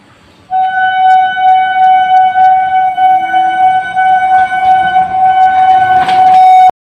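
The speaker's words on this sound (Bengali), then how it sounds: "ট্রেনটা আসছে দেখো" A train horn blares as the train arrives, one long, loud, steady tone held for about six seconds that ends abruptly, with faint rumble beneath.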